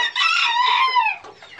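Swedish hens squabble after flying down from their perches, one loud, close, harsh squawk that trails off after about a second.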